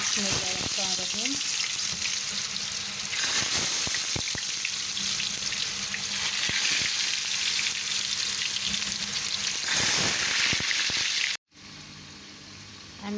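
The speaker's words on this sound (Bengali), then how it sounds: "এখানে আমি মিষ্টি কুমার ভাজি করবো আমি" Sweet pumpkin fries in a pan with a steady, loud sizzle that runs almost unbroken, joined by scraping stirs and a few clinks before the sound cuts off briefly near the end.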